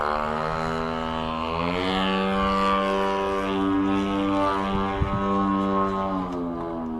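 A giant-scale RC 3D aerobatic airplane rolls overhead, its propeller engine droning loud and steady as the pitch slowly rises and falls through the manoeuvre, with no talk.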